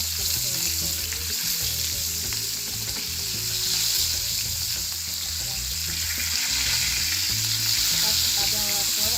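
Koi fish fry in oil in a pan with a strong, unbroken crackling sizzle, heard close and loud, with a low hum underneath and no voices.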